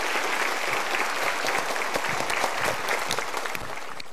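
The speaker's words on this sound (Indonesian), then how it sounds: "Kita berikan tepuk tangan untuk 3 orang ini." A seminar audience at a Mario Teguh session applauds three participants, the dense clapping steady and fairly loud with a few sharper individual claps standing out.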